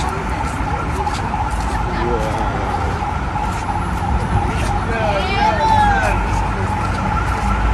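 A police car siren from Côte d'Ivoire wails in rising and falling sweeps partway through, mixed into loud road and traffic noise while people talk nearby.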